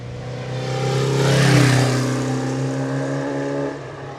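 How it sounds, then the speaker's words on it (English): A 1974 Kawasaki Z1 900 double overhead cam inline-four blipped through its exhausts, the note swelling to a peak and easing back to a steady loud drone, close by with no talking. "I don't know if the mic picked that up, but these exhausts sound fantastic"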